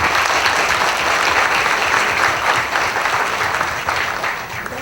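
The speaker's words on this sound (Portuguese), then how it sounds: "Eu acho que nós podemos dar uma salva de palmas para eles que vieram, né?" Seminar audience applauding, a dense, steady round of clapping that fills the room and tapers slightly at the end.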